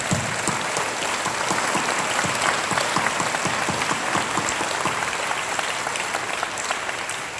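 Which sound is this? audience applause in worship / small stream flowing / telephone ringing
audience applause in worship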